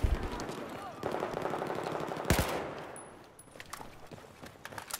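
Gunfire in Battlefield 4 rattles in dense bursts through the first half, with a sharp loud blast near the middle. Quieter scattered shots and game noise follow, and a voice talks underneath.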